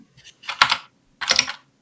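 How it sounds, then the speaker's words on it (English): Two quick bursts of clicking keystrokes on a computer keyboard, close and crisp, separated by a short pause. "Someone typing."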